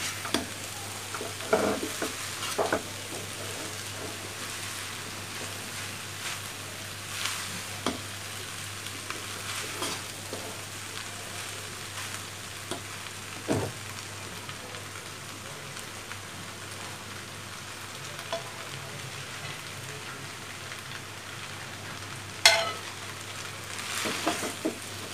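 Leftover rice stirred and fried in a pan sizzles steadily for the whole stretch, with scattered scrapes and taps of the spoon or spatula against the pan and no voices.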